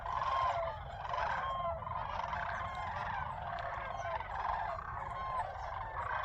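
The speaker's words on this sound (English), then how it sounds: "Listen to that. The sandhill cranes." Sandhill cranes call at a waterfowl complex, a chorus of rolling, bugling trills overlapping continuously, fairly close and loud.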